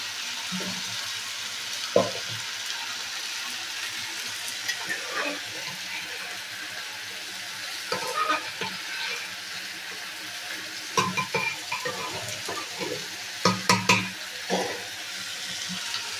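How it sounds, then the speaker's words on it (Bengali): A tempering of garlic, dried and green chillies and nigella seeds sizzles in hot oil for dal, giving a steady, soft frying hiss, with occasional sharp knocks and clinks of a spoon against the pan. "এখানে ভাজা ভাজা করে ফোড়নে রসুন, শুকনো লঙ্কা, কাঁচা লঙ্কা, কালো জিরে"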